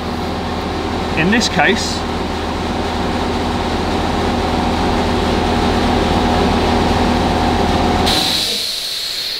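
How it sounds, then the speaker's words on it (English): A running air compressor drones steadily with a tonal hum and hiss under a man's speech, then cuts out abruptly near the end. "excuse the compressor"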